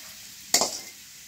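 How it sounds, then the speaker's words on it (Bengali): Carrots fry with green chilli and onion in a pan. One quick stirring scrape sets off a short flare of sizzle, then settles back to a low, steady frying hiss. "গাজর লগে দিছি, কাঁচামরিচ দিচ্ছি আর পেঁয়াজ দিচ্ছি।"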